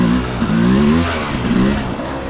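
A Beta 300 two-stroke dirt bike engine idles after a carburetor idle screw adjustment, a steady close-up throb with a couple of slight swells in pitch across the short stretch, heard alone without talk.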